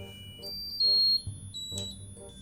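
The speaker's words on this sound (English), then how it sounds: "You just set off the fire alarm." An alarm going off indoors, set off by a birthday candle, with short high beeps and tones sounding alongside faint background voices and music.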